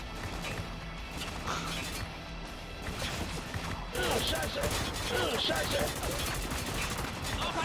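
Rapid Uzi gunfire in the video game Spec Ops: The Line, with bursts of automatic shots and clattering impacts growing denser and louder partway through, layered over a busy combat background.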